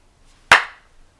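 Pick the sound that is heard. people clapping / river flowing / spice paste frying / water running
people clapping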